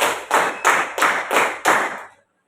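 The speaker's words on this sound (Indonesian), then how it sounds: "Tepuk 1, tepuk 2, tepuk 3, tepuk 3 2 kali" Students in a classroom clap a counted concentration pattern, six sharp claps in a quick, slightly uneven rhythm, loud and close, then silence.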